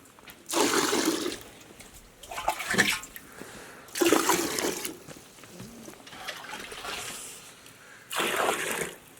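Water poured out from a glass in cold mountain air near Tungnath temple in Chopta, Uttarakhand, coming in four or five separate splashing gushes of a second or so each, close by, with quiet gaps between.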